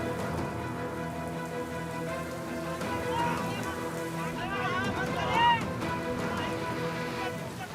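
Heavy monsoon rain pours down steadily on hard surfaces in Maharashtra, dense and close, with voices and some music mixed into the downpour.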